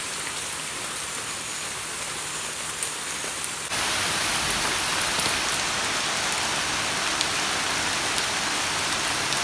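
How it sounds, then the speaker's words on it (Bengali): Heavy rain pours down steadily as a dense hiss of drops beats on surfaces, then abruptly grows louder and fuller partway through. "আস্তে আস্তে বৃষ্টিটা অনেক জোরে আসতেছে।"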